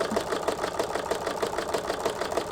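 An embroidery sewing machine stitches over existing embroidery, a fast, even mechanical whirr and needle patter running steadily at close range with no talk.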